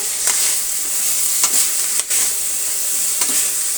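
Vegetables and poha for tarakari avalakki bath fry on a low flame in a steady, loud sizzling hiss, broken by a few brisk spatula scrapes as the mix is stirred.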